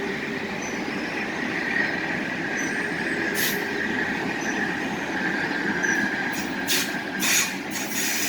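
An Amtrak Cascades Talgo passenger train pulls out of the station at Oregon City with a steady rolling rumble, a thin sustained wheel squeal, and a few sharp metallic clanks toward the end. Nobody speaks.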